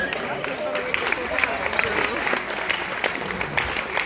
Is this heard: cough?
no